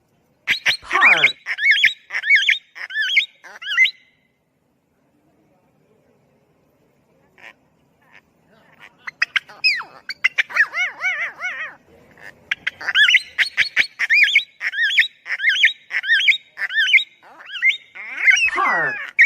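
Loud parrot squawks and chattering calls come in rapid repeated bursts at the start, break off into a quiet gap, then resume as a steady, close sequence of harsh rhythmic calls that carries to the end.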